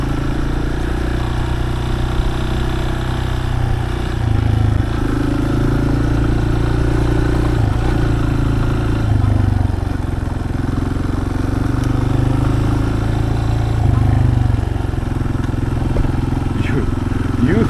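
A Yamaha Serow 250 motorcycle rides a rough forest road, its mid-pitched engine droning steadily and loudly throughout with rattling clatter over the bumps, while a rider talks over it.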